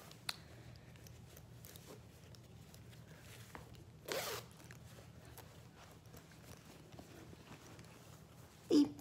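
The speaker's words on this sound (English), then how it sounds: "Another zip back here." Zipper on a Vera Bradley bag pulled open in a quiet room: one short, soft zip near the middle and a brief louder rasp at the very end, with faint handling noise in between.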